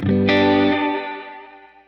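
A spring reverb setting on a UAFX Golden Reverberator guitar pedal rings out from one struck guitar chord, with a sharp attack and a wobbling, pitch-shifting spring tail that fades over about two seconds.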